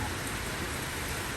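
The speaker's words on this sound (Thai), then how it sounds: "ตอนนี้ฝนตกหนักมาก" Heavy rain pours down steadily, a dense, loud wash of drops hitting surfaces with no pauses.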